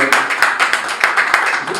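Audience members at a press conference for a Congolese musician clap in a quick, rhythmic pattern, sharp hand claps close by and fairly loud, with voices mixed in.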